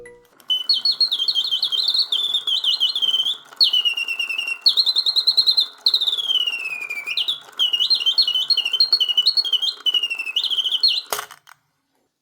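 An antique 19th-century Parisian singing bird box trills and warbles in quick mechanical chirps and sliding whistles, loud and close, with brief breaks between phrases before a click and silence at the end.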